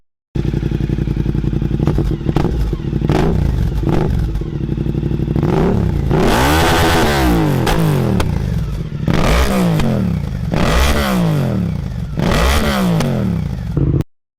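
Suzuki GSX-8S motorcycle engine idling loud and close, then revved hard in several rising and falling bursts, each surge sweeping up and dropping back to a steady idle.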